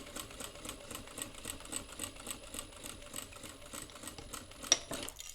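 A sewing machine back stitches a seam on a fabric phone and tablet stand, running in a quiet, steady, rapid chatter with a brief click near the end.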